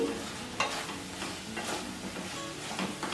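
Brinjal pieces coated in chilli powder are stirred in a pan on the stove, giving a steady sizzle broken by several scraping strokes of the spatula, close and moderately loud with no talking.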